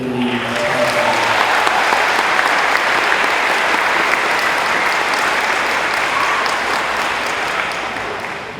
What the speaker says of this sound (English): And one more round of applause for the Forest Lake community.